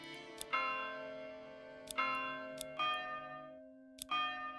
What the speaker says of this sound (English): select the church bell sound